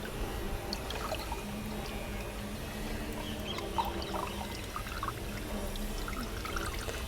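Muddy rainwater from a puddle on a balcony vegetable garden pours steadily into a watering can, a continuous close trickling splash with faint birds in the background.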